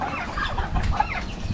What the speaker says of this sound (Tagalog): At si Bossing po yung magpapakain na po ulit ng manok.